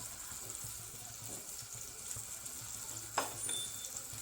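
Fish frying in oil in a pan, a soft steady sizzle with faint stirring and a brief clink of a utensil partway through, heard close and fairly quiet with no voices.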